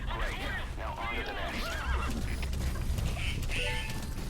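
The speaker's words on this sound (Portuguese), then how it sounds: "O cavalo ficou meio chamuscado ali." A horse neighing in the video game Metal Gear Solid V: The Phantom Pain, a couple of wavering whinnies over a constant low game rumble, with people talking over it.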